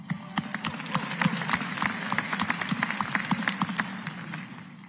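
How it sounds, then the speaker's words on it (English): An audience at a county address claps in a dense, steady patter that stays fairly even throughout, heard from a little distance. "Let's give them a big round of applause."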